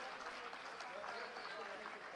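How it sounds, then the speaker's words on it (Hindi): Steady, dense applause from a crowd at a school academic block inauguration fills the space, a continuous wash of clapping heard at a moderate distance. "जोरदार तालियों से आइए हम सहभागी बने"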